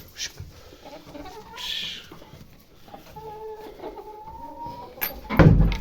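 Chickens cluck and squawk nearby at Christmas Eve feeding time, with a drawn-out call in the middle and a loud flurry of noise at the end.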